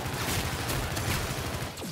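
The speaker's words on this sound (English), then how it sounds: "What I do like about Infinite Warfare is its firing" Loud, continuous gunfire from Call of Duty Infinite Warfare in its Zombies in Spaceland mode roars up close in a short, dense burst of overlapping shots.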